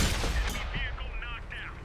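Jagdtiger 8.8 tank destroyer firing its 8.8 cm gun in World of Tanks on Xbox One: several booming shots over a dense battle rumble, with a low engine drone beneath and short whistling tones between.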